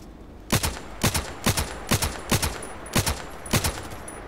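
Gunfire in the online shooter Contract Wars, a steady series of eight loud single shots spaced about half a second apart, each with a short echoing tail, over faint background noise and with no talking.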